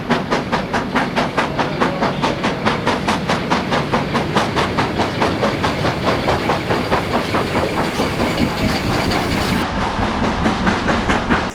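WD steam locomotive hauling coal empties through Manchester Victoria at full throttle, loud rapid exhaust beats in a steady driving rhythm over rumbling wagons, close and unbroken.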